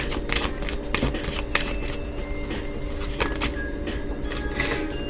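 A deck of tarot cards is shuffled close up, rapid papery riffles and flicks in quick uneven bursts with small taps between them, no voice over them.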